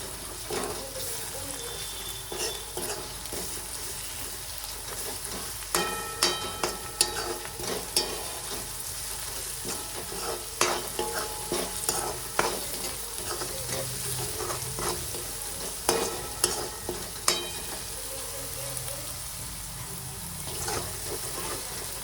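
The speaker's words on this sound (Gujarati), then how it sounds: "અને આદુ લસણની પેસ્ટ નાખી દઈશું. આને સારી રીતે હલાવી નાખશું." Ginger garlic paste sizzles quietly as it is stirred and sautéed in a pan, with a steady low frying hiss and intermittent scraping clicks of a spoon against the pan.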